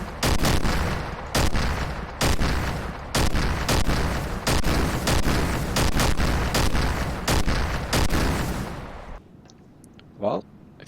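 Heavy ACF cannon rounds slam into armour plate in Garry's Mod, a rapid run of loud, booming impacts over dense rumbling gunfire, ending in a brief quieter tail with one small final hit.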